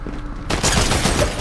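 Gunfire in the video game Fortnite, a sudden loud burst of rapid shots breaking in after a quieter moment and carrying on as a dense fusillade, with no talk over it.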